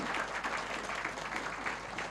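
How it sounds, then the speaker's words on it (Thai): An audience at a Thai talk show applauds, a short burst of steady, fairly faint clapping from many hands. "ขอเสียงปรบมือ ดัง ๆ"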